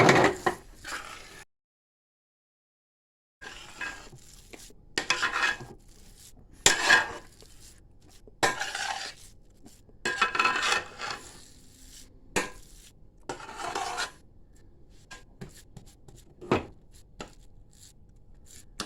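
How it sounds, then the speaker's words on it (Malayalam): A sweet munthiri kothu mixture is stirred with cardamom powder in a vessel, making intermittent scraping, knocking and clattering strokes at an uneven pace, with one silent gap early on and no voices. "3 സ്പൂൺ ഏലക്കാപ്പൊടി ചേർത്ത് നന്നായി ഇളക്കി യോജിപ്പിക്കുക"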